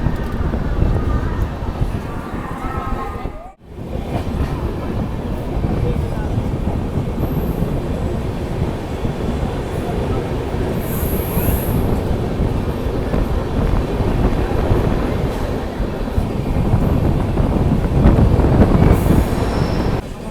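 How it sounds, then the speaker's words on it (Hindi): Baba Baidyanath Dham Deoghar Superfast Express train skipping Barh station at speed, a loud continuous rumble and clatter of wheels on rails with metallic squealing, heard close from on board, building slightly toward the end. "अपनी बाबा बैद्यनाथ धाम देवघर सुपरफास्ट एक्सप्रेस बाढ़ स्टेशन को स्किप कर रही है"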